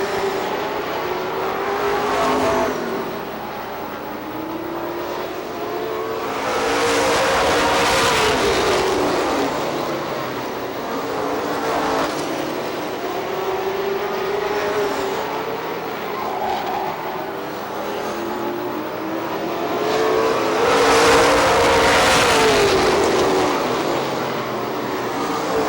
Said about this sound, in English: As we've got a freight train of cars moving on the outside.